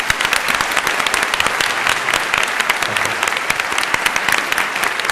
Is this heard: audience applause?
yes